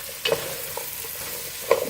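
Vegetables with cauliflower get stirred in a pot over medium heat, a couple of short scraping stirs over a soft, steady sizzle.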